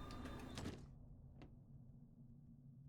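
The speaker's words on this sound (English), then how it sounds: "Let's close the door" A door closing in the Aegir Rising dungeon-crawler game: a short mechanical slide and shut, then a faint click a moment later over a low steady hum.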